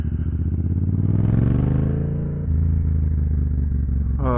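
A Yamaha MT-07 motorcycle rides down the road, its engine droning loud and close with a steady low rumble that rises in pitch, dips briefly as the rider shifts, then pulls on again.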